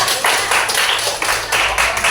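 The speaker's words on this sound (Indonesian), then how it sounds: "Oke, tepuk tangan untuk kelompok 3." A class audience claps for a student group in a school session, loud rhythmic clapping in close bursts throughout, with no talk over it.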